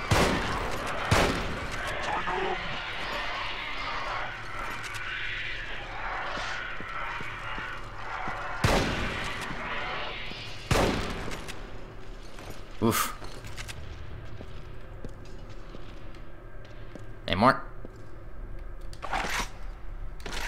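Shotgun blasts ring out in the Resistance: Fall of Man video game, with several sharp, loud reports spaced irregularly over a low rumbling game background.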